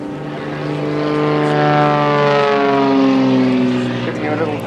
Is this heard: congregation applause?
no